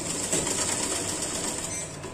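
Close-up sewing machine running steadily while stitching a trouser hem just below the elastic waistband at home, a continuous whirring drone with no pauses across the short stretch.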